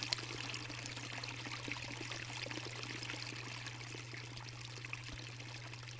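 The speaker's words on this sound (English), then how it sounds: "the water delivery continues to exceed the outflow until it flows over the edge and down the outer surfaces" Water spills over the rim of a large water sculpture and runs down its outer surfaces, making a steady, continuous pouring rush over a low constant pump hum, with no voices.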